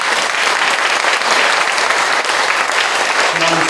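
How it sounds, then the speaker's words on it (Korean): Dense, loud applause from a church congregation at a worship service for hospitalized veterans, continuous clapping from a full room throughout, with a faint voice near the end. "우리 박수 한번 쳐주세요"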